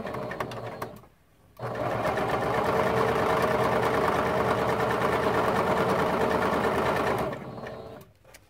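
A sewing machine stitching quilt seams runs in a steady, fast whirring rattle for about six seconds, starting after a brief pause and stopping near the end, close and alone.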